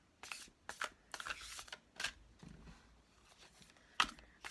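Close, soft shuffling of a stiff tarot deck: several quick papery riffles and slaps in irregular bursts, with short pauses between them and no voices.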